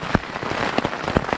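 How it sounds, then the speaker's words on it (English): Steady rain pours down on a camp during a night-time thunder and ice storm, a dense continuous patter with several louder drop hits close by. "because it's just raining down"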